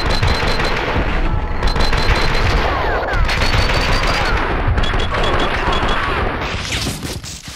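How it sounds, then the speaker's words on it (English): Heavy gunfire erupts in the video game Max Payne 2, with rapid overlapping shots and bursts forming a loud, continuous barrage for several seconds before easing slightly near the end. "Someone must have heard the gunfire."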